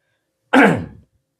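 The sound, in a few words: speaker coughing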